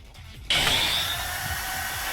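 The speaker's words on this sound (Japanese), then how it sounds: "His giant drill began spinning overbearingly" A giant cookie drill arm spinning up in the visual novel game Majikoi A2: a sudden loud mechanical whirring that starts abruptly after a quiet moment and keeps grinding steadily.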